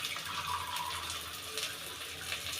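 Water pours steadily into a pot of rice being prepared for cooking, a close continuous splashing gush with slight surges.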